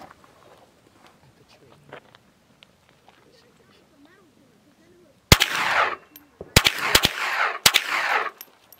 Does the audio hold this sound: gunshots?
yes